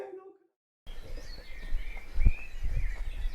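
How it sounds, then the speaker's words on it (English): Several birds chirp and whistle overlapping in the distance, a steady layered dawn chorus about half an hour before sunrise over low background rumble after a brief voice at the start. "Fantastic dawn chorus of the birds."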